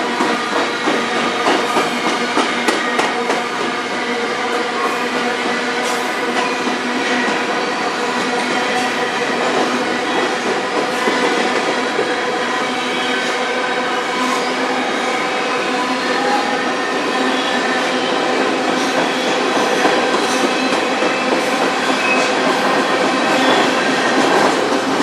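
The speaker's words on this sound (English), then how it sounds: "Pretty big train." A large freight train rolls past on the Strathroy Subdivision in Canada, its dense, continuous rumble and steady clatter holding loud and close for the whole stretch, with faint wheel squeal mixed in.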